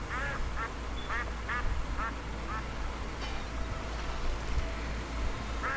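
Repeated duck quacks in the MS-DOS game Wishbone and the Amazing Odyssey, several short calls spread across the clip over a steady low game hum, fairly clear but not loud.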